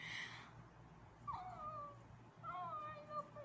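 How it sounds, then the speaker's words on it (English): A cat meows twice with drawn-out, rising cries separated by a short pause, fairly soft against a low background hum. "the one meowing a lot just adores you"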